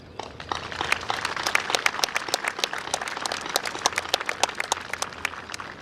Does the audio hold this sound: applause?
yes